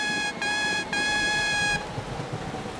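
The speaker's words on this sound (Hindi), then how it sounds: "मैं अपना हॉर्न बजाता हूँ। टीटीपो और जीनी शायद उसे सुन ले।" A bright, electronic cartoon toy train horn sounds twice in quick succession, steady and fairly loud, then cuts off into quiet background noise.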